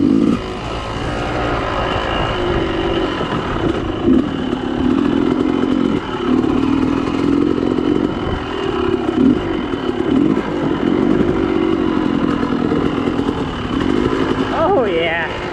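Enduro motorcycle on a trail along a cliff edge, the engine droning steadily with rising and falling revs and loud, close clatter throughout, with no talk heard over it.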